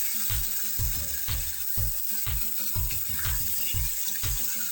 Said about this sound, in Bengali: এইভাবে কিছু সময় নেড়ে ছেড়ে মুখিগুলোকে ভেজে নেব ভালোভাবে